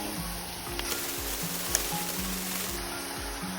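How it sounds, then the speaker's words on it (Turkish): Minced beef, 300 grams, hits a pan of sautéed vegetables for a Turkish karnıyarık filling and sizzles in a steady hiss, with faint rhythmic stirring scrapes beneath it. "Kavrulan harcımızın içerisine 300 gram dana kıymamızı ekliyoruz"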